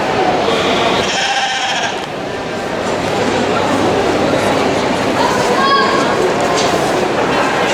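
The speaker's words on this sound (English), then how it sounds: "These are unusual looking sheep." Sheep bleat a couple of times amid a loud, busy crowd murmur and general noise at the Royal Welsh Show, an agricultural show.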